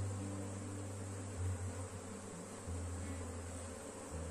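A dense bee swarm drones continuously inside a hive stocked with stored food. The buzzing is steady and close, with a low hum underneath and no voices.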